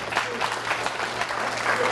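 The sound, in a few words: audience applause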